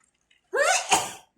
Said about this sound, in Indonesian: Ini bersin bukan corona ya, karena cabai.